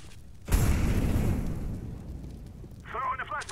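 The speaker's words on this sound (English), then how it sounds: "Throwing fire. Incendiary." An incendiary grenade in CS:GO bursts with a sudden loud whoosh that settles into a roaring crackle of fire, fading gradually; a voice speaks briefly near the end.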